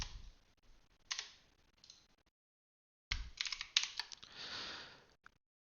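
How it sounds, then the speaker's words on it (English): Keys clatter on a computer keyboard, close and fairly quiet, in two short bursts of rapid typing separated by a pause. "I'm just going to type in one simple word."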